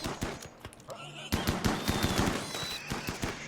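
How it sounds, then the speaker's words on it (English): Double auto shotgun firing in the game Rimworld, a rapid, irregular burst of sharp gunshots and impacts that runs through the clip, with faint background game sounds. "Double auto shotgun."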